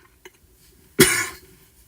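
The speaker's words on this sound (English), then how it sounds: "Cough is bad." A single sharp cough bursts out close to the microphone during a casual Rubik's cube livestream, standing alone against a quiet background with a faint tap just before it.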